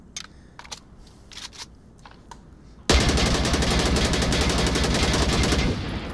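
Automatic fire from an AK-12 rifle in the virtual reality shooter ONWARD: after a few soft mechanical clicks, a loud, rapid sustained burst of shots runs for about three seconds and then cuts off.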